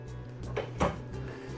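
A full-extension ball-bearing drawer in the kitchen of a 2024 Salem Villa 353FLFB destination trailer slides and shuts nearby, giving a short rolling glide and then a soft knock over a quiet room.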